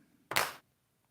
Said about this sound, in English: I'll put a clap here and a clap there.